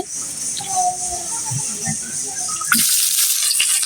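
Chopped onion and chili frying in hot oil in a wok, a steady hiss that swells louder and brighter partway through as more goes in, with faint background clatter and no speech.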